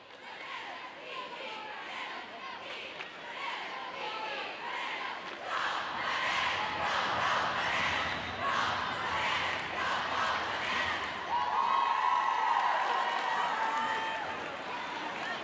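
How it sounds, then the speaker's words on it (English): Packed crowd at a volleyball match in the HP Fieldhouse, a dense indoor murmur of chatter and cheering that swells midway, with shoe squeaks and ball thumps scattered through and a voice speaking over it. "Jam-packed crowd here at the HP Fieldhouse treated a one heck of a match so far."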